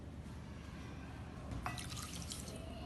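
Water is poured onto sugar in a pan to make syrup for balushahi. The pour is a faint liquid trickle with splashy drips partway through, close by and quiet.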